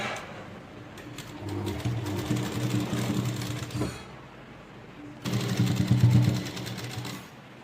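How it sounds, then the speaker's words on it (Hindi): A sewing machine runs in two bursts while stitching a Rajputi lehenga: a close, rapid mechanical whirr for several seconds, a short pause, then another loud run. "अब हमें पक्की सिलाई लगानी है"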